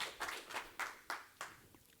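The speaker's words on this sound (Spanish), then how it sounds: "Den un fuerte aplauso a Cristo" A church congregation claps in short, distinct bursts of applause, about five quick rounds that rise sharply and fade, moderately near and not very loud.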